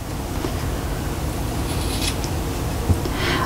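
Scissors snip steadily along the fabric points of a double-sided Christmas cushion, a soft continuous trimming rasp close by with one slightly sharper cut near the end.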